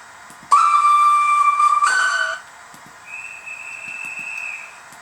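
A Zimo sound decoder in a model steam locomotive plays its steam whistles: a loud, sharp two-tone blast lasting over a second, a brief higher shriek, then a softer, longer sustained whistle tone.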